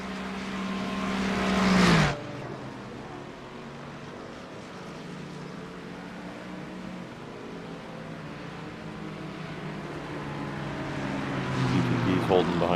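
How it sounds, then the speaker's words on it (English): A Ferrari race car with no front lights roars past in a night endurance racing game, a loud engine surge at first that cuts off sharply, then a steady lower drone, with someone talking over it. "Ferrari with no front lights trying to pass you"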